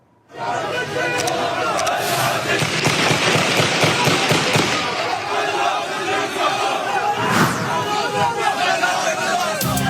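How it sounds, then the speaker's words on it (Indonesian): Panicked crowd at a funeral procession in Gaza after a bomb explosion: loud, continuous shouting and screaming from many people with sharp bangs and crackles breaking through, all close and dense. "Prosesi pemakaman yang penuh duka berubah menjadi kepanikan saat terjadi ledakan bom di tengah warga yang mengantar jenazah."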